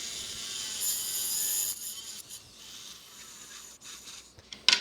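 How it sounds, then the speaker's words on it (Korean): A rubber tip fitted on a handpiece is shaped with a diamond file, giving a faint, fine grinding rasp that holds for a couple of seconds and then gives way to scattered soft scrapes and a sharp click near the end. "핸드피스에 고무발을 끼우고 다이아 줄로 대주면서 깎아줍니다."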